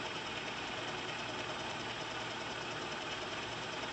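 Small homopolar motor spinning fast, a steady, even high-speed whir or buzz that holds constant throughout, fairly quiet with no talk.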